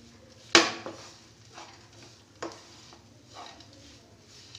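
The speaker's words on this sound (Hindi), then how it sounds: "इन सबको अब मैं अच्छे से मावे के साथ मिक्स कर लेती हूँ" A spoon clinks and scrapes in a bowl while coconut and semolina stuffing is mixed with mawa, with one sharp knock followed by a few softer scrapes and taps.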